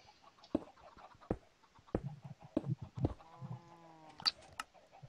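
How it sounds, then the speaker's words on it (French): Chickens cry out from a cooking furnace in the Minecraft video game, giving a few faint clucks and squawks mixed with short clicks and clatter, with no one speaking over them. "la bouffe est en train de cuire, ça s'entend au hurlement désespéré des poulets."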